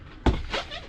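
A single short, dull thud comes as the bedroom door of a 2014 Koala 26SS camper swings shut, close by, with a faint soft rattle just after.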